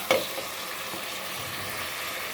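Tomatoes for a tomato pickle cook in a pan, giving a soft, steady frying hiss after a brief clack at the start, probably the lid being set down.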